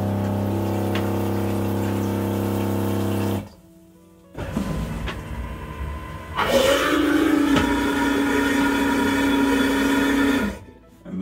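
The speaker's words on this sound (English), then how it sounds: "And you press this first. And it'll flush away." Marine toilet flushing aboard a Bavaria 45 sailboat: a loud electric pump hums steadily, then stops briefly. Gurgling, rushing water follows, then a strained pumping whine that runs for several seconds before cutting out.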